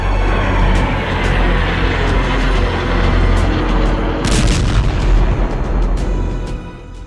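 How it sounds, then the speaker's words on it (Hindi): US air strikes on Kataib Hezbollah positions produce a loud, continuous roar of rumbling blasts and booms, with a burst of sharper crackling reports midway, close and dense throughout with no talk. "अमेरिकी सेना ने ईरान समर्थित कताइब हिजबुल्लाह पर भीषण हवाई हमले किए थे"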